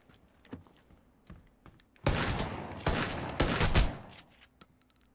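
Shotgun blasts in PUBG, a sudden loud burst of several close, booming shots packed into about two seconds after quiet with faint clicks.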